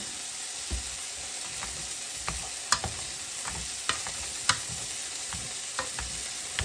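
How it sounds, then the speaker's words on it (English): Boiled potatoes being mashed by hand with butter and pepper in a pot, soft repeated thuds and squelches in an uneven rhythm over faint background hiss, close and fairly quiet with no talk. "And then we're just going to mash until desired consistency."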